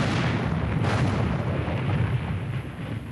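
A battleship's main guns fire in a loud, sustained booming roar that rumbles and fades away over a few seconds.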